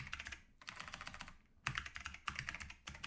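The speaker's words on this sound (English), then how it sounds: "When we first turn it on, I'm just going to put in password." Keys clatter on a computer keyboard as a password is typed, quick bursts of clicks separated by short pauses, close and fairly quiet with no voices.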